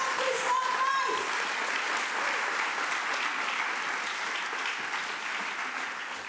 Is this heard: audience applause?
yes